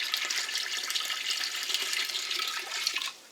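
Water pours steadily into a canning pot holding store-bought mustard jars, a continuous close splashing rush that stops abruptly at the end, with no talk.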